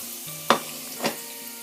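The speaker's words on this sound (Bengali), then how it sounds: "তেলটা গরম হওয়ার পর আমি এখানে রসুন কুচিটা দিয়ে দিচ্ছি" Chopped garlic frying in hot oil for Sylheti shutki shira: a low steady sizzle broken by two brief scraping stirs of a spatula in the pan, close and clear.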